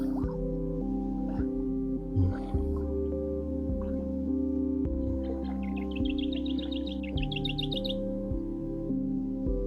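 A rapid series of high chirps from a small bird rings out over steady dripping and a constant hum, fairly clear but not loud.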